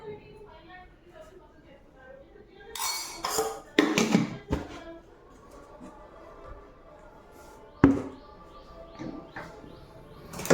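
A spoon scoops sugar into tea and clinks against a cup or pot, giving a few sharp metallic taps between quieter handling sounds, with someone talking over it and faint bird calls in the background.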